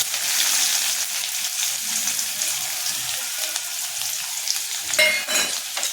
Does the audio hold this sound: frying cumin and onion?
yes